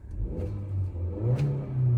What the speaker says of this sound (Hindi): चलो गाड़ी स्टार्ट हो गई है हल्के से ही क्रैंक के बाद